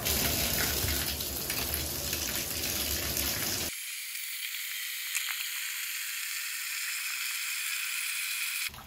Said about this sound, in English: Okay, so that's enough water.